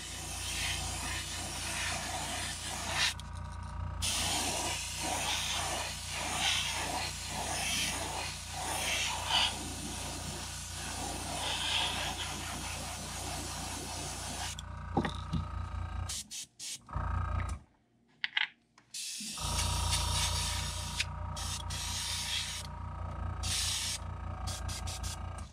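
Orange paint sprays onto a crankbait fishing lure in a steady, loud hiss from the spray gun, broken by a few short pauses and a brief gap near the end.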